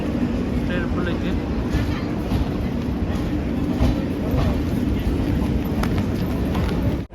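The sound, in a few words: train at railway station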